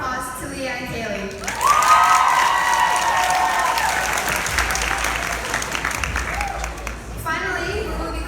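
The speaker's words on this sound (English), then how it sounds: "big round of applause to Leah and Kaylee" At a Moscrop school sports banquet, a crowd breaks into loud sustained applause with some cheering, rising sharply after a short pause and carrying on steadily to the end, with voices mixed in.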